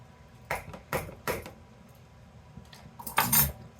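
A tablespoon clinks against a dish four or five times while scooping mayonnaise for an elote salad, sharp close taps spaced irregularly, the last cluster brighter and longer, with a quiet kitchen between.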